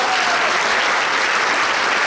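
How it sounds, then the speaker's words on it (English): A room at a Republican club meeting at Heritage Ranch bursts into dense, loud applause for Judge Chris Hill, a steady wash of many hands clapping at once with no pauses or voices breaking through. "Can we have a round of applause for Judge Chris Hill?"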